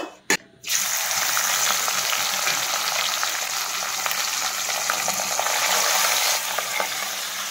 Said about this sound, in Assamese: মাছখিনি ধুনীয়াকৈ ফ্ৰাই কৰি ল'ব লাগিব